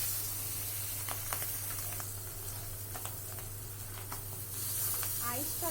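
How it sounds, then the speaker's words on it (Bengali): Fish frying in hot oil, a steady close hiss and sizzle with scattered spitting crackles and a low background hum, while someone speaks over it. "আইস ছাড়া মাছগুলো প্রচণ্ড ফোটে"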